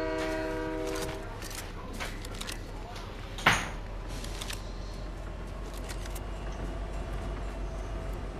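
Train horn in the video game Fortnite, a sustained tonal blast in the opening second or so with stacked harmonics, fading out under continuous game noise and players talking.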